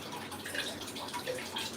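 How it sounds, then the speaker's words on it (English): Water drains and drips off a heavy printing plate in a printing lab, scattered small droplet taps over a steady wet trickling wash. "It's just draining, dripping."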